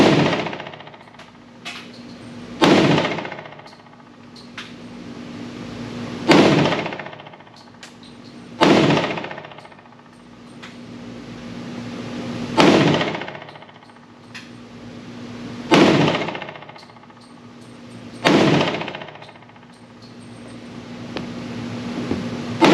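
Glock pistol chambered in .357 SIG fires body shots one at a time, about seven sharp, loud reports spaced a few seconds apart, each ringing out briefly before the next.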